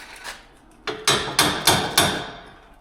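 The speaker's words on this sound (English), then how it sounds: "we'll give it a knock of a hammer" A hammer knocks a metal piece into place during a car rear-end repair. Six sharp, close strikes come in a steady series: one light tap, then five harder blows with no talking.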